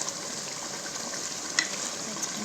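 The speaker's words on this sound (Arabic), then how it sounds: "هاد الدجاج ديالنا كيتقلى" Free-range chicken frying in a pan with oil for a Moroccan dish with preserved lemon and olives, a steady close, moderate sizzle and crackle with a few brief pops and no voice.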